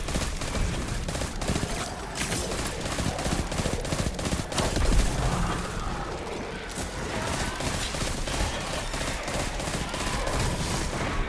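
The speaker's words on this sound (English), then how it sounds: "I just absolutely unleash all of my grenades at once" A dense, continuous barrage of game explosions and gunfire from a Destiny Hunter build as many grenades go off at once, with rapid overlapping bursts and booms at a steady high level throughout and a faint voice underneath.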